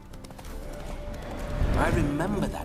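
Roach the horse in The Witcher 3 gets spooked, with hooves clopping and a whinny rising toward the end, all under game dialogue and background music.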